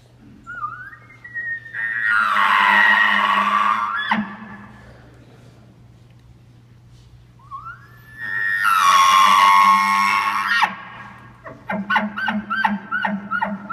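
A voice imitates a bull elk bugle, the call of a herd bull gathering his cows: two long, rising, whistling squeals, each ending in low grunting, followed by a string of short rhythmic chuckles, loud and close with no talk.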